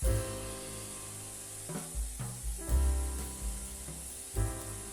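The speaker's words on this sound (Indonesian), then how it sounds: "Ini kita akan tumis hingga warnanya sedikit kecoklatan." Seasonings and fish sauce sizzle steadily in a hot pan while being stir-fried until lightly browned, a constant frying hiss broken by a few soft knocks of stirring.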